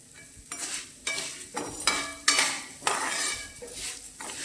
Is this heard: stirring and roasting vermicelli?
yes